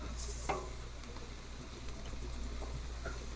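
Steak and shrimp fried rice sizzles on a Blackstone griddle, a faint steady frying hiss with a few light scraping and stirring clicks over a low background hum.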